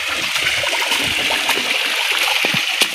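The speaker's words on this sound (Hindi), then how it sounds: "पहाड़ का ऊपर से किधर पानी निकल रहे देखो" Mountain stream running downhill from the hills toward fields below, a continuous close babble and splash of flowing water with small bright splashes throughout and no voices.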